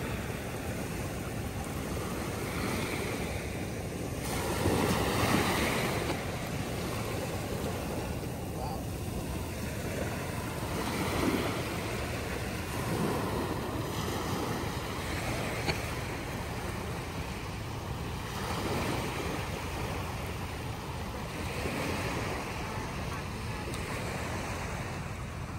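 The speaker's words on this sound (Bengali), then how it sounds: "এই যে জোয়ারের অবস্থা" High-tide sea waves wash steadily onto Cox's Bazar beach, a continuous broad roar of surf with wind buffeting the microphone and a few swells rising louder throughout.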